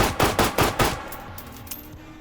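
Four quick sharp shots from a .32 ACP pocket pistol in the VR shooting game H3VR, fired in a fast rhythm, each crack trailing off, followed by quieter clicks and faint handling noises.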